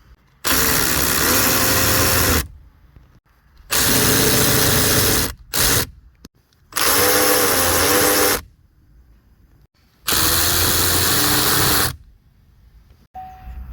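A power driver whirs in four loud, sustained bursts of about two seconds each, with a short blip between the second and third, while removing screws from an interior panel on a Chevy Trax during an HVAC temperature repair.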